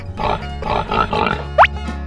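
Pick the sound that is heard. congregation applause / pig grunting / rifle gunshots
pig grunting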